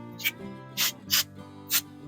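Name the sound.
cooking spray being sprayed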